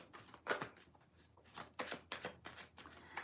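Tarot cards are shuffled by hand in a quiet room, giving a series of soft, papery riffling bursts and slaps at an uneven rhythm, close and faint, with no talking.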